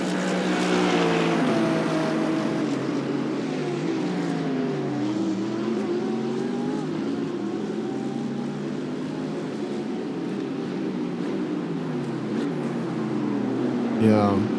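A mid-engine race car at Sebring roars steadily at high revs through the whole stretch, its pitch rising and dipping with gear changes, loud and close, with voices talking over it.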